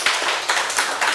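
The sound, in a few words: congregation clapping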